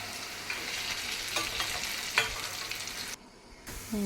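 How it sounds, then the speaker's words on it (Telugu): Potato fries deep-frying in hot oil for a second frying until browned, giving a steady bubbling sizzle with crackles and occasional stirring, and a brief drop in the sizzle near the end. "ఫస్ట్ హాఫ్ ఫ్రై అయిన తర్వాత తీసి పక్కన పెట్టి అవి ఆడిన తర్వాత మరలా సెకండ్ టైం ఫ్రై చేసుకోవాలి"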